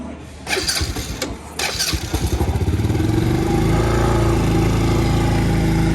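A kid's motorbike engine catches after a few cranking bursts and then settles into a loud, steady, slightly high idle close by, with no talking.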